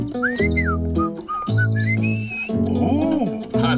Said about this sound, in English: Instead of humming, how about whistling?